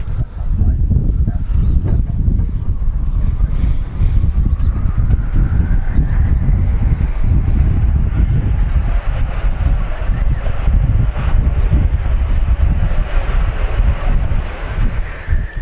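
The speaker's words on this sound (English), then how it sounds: "When is it ever not windy here?" Strong wind roars and buffets steadily across the whole stretch at Manchester Airport, with a distant business jet engine slowly rising in pitch underneath.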